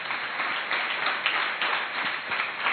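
A church congregation clapping hands together, a dense continuous wash of applause with a loose steady rhythm, filling the room for a few seconds.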